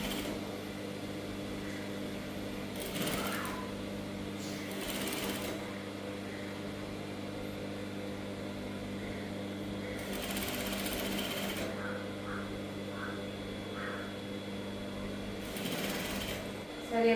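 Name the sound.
sewing machine stitching round neck of saree blouse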